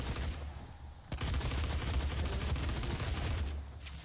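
Rapid gunfire in the DOOM beta, a dense run of shots that fills the whole span, loud and close, with a brief lull near the start and a softer tail at the end.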